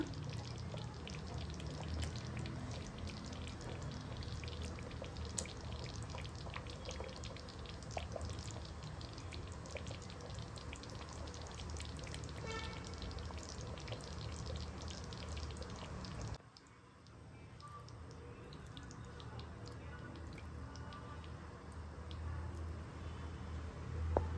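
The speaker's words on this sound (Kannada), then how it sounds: "ಈ ಮಸಾಲೆಗೆ ನಾವು ಮೀನು ಹಾಕ್ಕೊಳ್ಳೋಣ" Fish pieces going into a simmering curry masala in a pan, a steady bubbling, sizzling wash with drippy splashes that drops suddenly quieter near the end, no talking.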